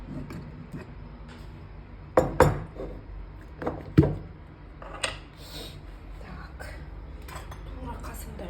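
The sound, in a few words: spoon clinking while adding salt to pumpkin filling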